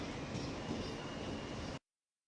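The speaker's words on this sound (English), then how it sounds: "This is a Manhattan-bound D train." A Manhattan-bound New York subway D train running between stops, a steady loud rumbling roar of wheels and car noise that cuts off abruptly.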